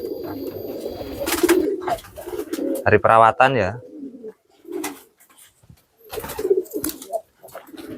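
Pigeons kept in a cage coo in low, throaty bursts, one loud rolling coo in the middle, while someone talks over and between them.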